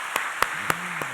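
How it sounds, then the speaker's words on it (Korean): A few sparse, separate hand claps from a church congregation during a Korean worship service, about four sharp claps spread over a second, fairly faint with no voices. "박수 한번 칠까요?"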